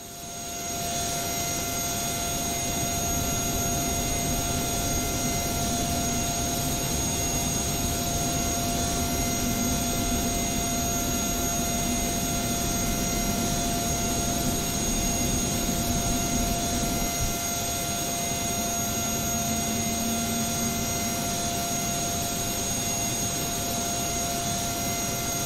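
Aerosoft DC-8 engine 3 spooling up in a flight simulator, a loud steady jet roar with a constant high whine layered over a rumbling low drone, sustained throughout.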